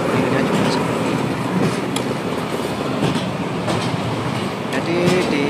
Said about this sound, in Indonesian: Jadi di kereta ini